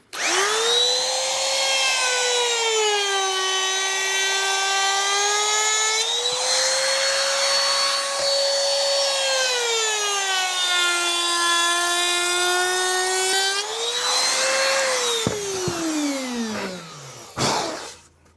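A router cutter shapes a decorative profile into a wood edge with a loud, steady high-pitched whine whose pitch rises and sags as the cut loads it, then spins down and stops near the end.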